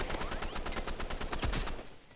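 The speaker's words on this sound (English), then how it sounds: "look, I emptied my mag all at once." Rapid automatic gunfire from a full magazine emptied in one continuous burst in the video game Rivals, loud and dense with evenly spaced shots, ending with a short tail.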